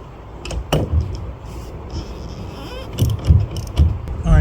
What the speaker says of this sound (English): Let me try my ratchet strap.